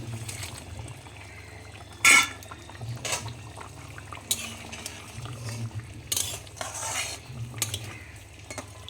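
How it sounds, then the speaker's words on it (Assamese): Fried fish pieces are added to a simmering fish curry pot and stirred, with scattered clinks of a utensil against metal, one sharp clatter, and soft liquid stirring sounds, close and without talk. "এতিয়া দিম মই ফ্ৰাই কৰি থোৱা মাছখিনি।"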